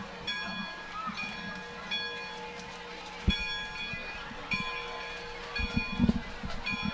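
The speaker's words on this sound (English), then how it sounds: "As the victory bell sounds at Tomahawk Stadium." A victory bell at Tomahawk Stadium rings out after a high school varsity football game, with several clanging strokes ringing on in a steady tone over open-air crowd noise and distant voices.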